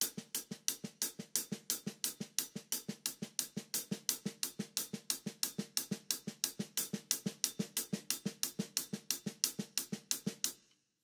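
Fast, steady snare drum tap strokes played low off the head, interleaved with full hi-hat strokes, a dense even stream of crisp hits lasting about ten seconds and then stopping abruptly.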